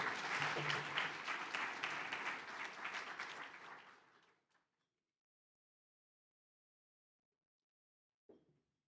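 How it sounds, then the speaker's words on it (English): Banquet audience applauding Bishop Williams, a full round of clapping from a room of diners that fades out after about four seconds, followed by silence and a brief soft knock near the end. "Please give a round of applause to Bishop Williams."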